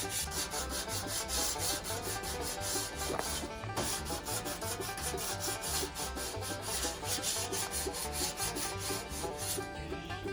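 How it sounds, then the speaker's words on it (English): Continuous rhythmic hand sanding with 220-grit paper on an F600 truck's patched and painted body panels during a restoration, a close, steady rasping scrub with regular strokes and no talking. "Right now I'm sanding all these down."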